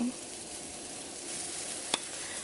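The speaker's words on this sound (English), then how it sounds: "now I'm just grilling up some onions that I'm just gonna put on top of the steak" Onions sizzling on a grill to top a steak, a steady close hiss of frying with one brief sharp tick near the end and no talking.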